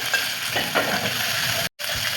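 Raw mango slices fry in oil tempered with mustard seeds, making a soft, continuous sizzle with small crackles and stirring touches. It breaks off briefly near the end.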